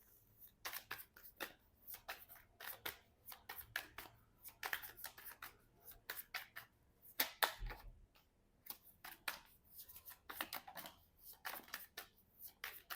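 Tarot cards are shuffled and drawn during a reading, with quiet, close riffling and flicking in irregular bursts of papery snaps and slides across the whole stretch.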